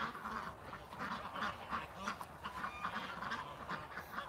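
A group of ducks and geese quacking and honking steadily as they are herded into a pen, a continuous busy chorus of overlapping calls close by.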